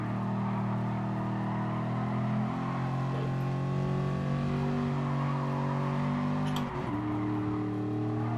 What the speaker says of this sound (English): Hard at the brakes, down to the third gear.